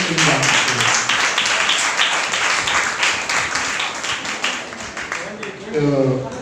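An audience applauding at a church graduation ceremony for a Bible course, sustained clapping across the whole stretch, partly under someone speaking Telugu into a microphone.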